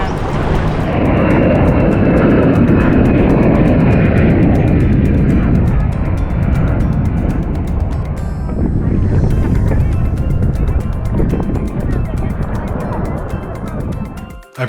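An airplane passing over a sandy beach in St. Thomas, a loud continuous engine roar that holds strong and slowly fades toward the end, with some faint voices and a brief bird-like call mixed in.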